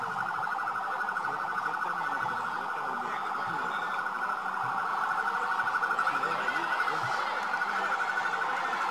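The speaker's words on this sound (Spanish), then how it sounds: "Escuchen la sirena." A SWAT unit vehicle's siren wails steadily during a military parade along Santo Domingo's Malecón, a loud continuous warbling tone over outdoor crowd noise.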